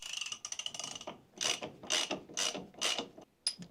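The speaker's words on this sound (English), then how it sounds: "we will put the new comp bolt in and torque this down" Ratchet wrench tightening a Harley compensator bolt, close and clear repeated clicking strokes in bursts, a fast run of clicks then several slower separate pulls, no speech.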